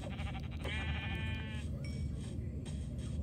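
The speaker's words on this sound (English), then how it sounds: "Found a sheep." A single sheep bleat from Minecraft sounds out, a wavering nasal cry of about a second, clear and near against a quiet game background.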